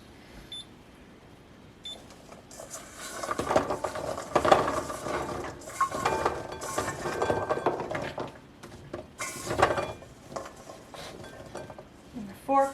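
Homegrown garlic bulbs are dropped and shuffled into a bowl, with irregular knocks, rattles and clinks of the cloves against the bowl going on for several seconds.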